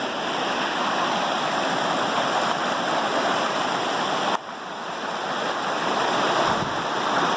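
Fast-moving stream water rushes steadily where a gold sluice is being set up, a loud, unbroken wash with one brief dip partway through.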